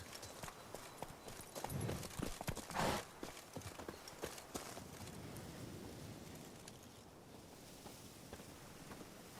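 Hooves of the horse Roach clip-clop steadily in The Witcher 3, a close rhythmic patter over a constant windy outdoor ambience with a brief louder rustle partway through.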